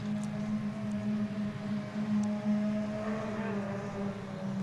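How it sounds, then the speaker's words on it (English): A drift car at a Klutch Kickers drift series event, its engine droning steadily with a low, sustained tone and rising revs, heard from a distance with some wind noise. "God, Dan's car sounds good."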